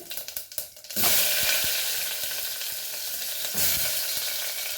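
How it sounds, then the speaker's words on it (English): Onion hits hot oil in a pan with cumin seeds and erupts into a loud, close, steady sizzle after a few soft knocks, frying on alone without talk. "So fry the onion."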